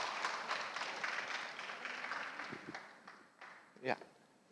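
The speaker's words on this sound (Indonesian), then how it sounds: "Tepuk tangan untuk Dr. Yandri" An audience at a tuberculosis and comorbidities medical symposium claps for a presenter, a fairly faint, scattered patter of hands that thins out toward the end, with voices talking over it and a brief bump near the close.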